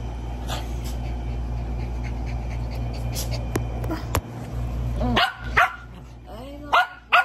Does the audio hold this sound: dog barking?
yes